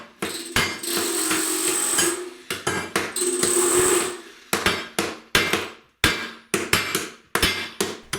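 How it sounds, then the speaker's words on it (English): Close hammer blows crunch and smash old stained glass inside plastic bags, first in long grinding bursts, then as separate sharp strikes in a loose, irregular rhythm. "with the hammer, we're back to the hammer and the plastic bags and smashing the glass"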